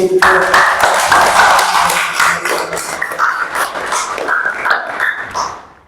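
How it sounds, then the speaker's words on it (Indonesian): Applause from a group at a school teachers' presentation session, a dense burst of clapping that holds steady for several seconds, thins into scattered claps and fades out at the end. "Kita beri aplaus dulu"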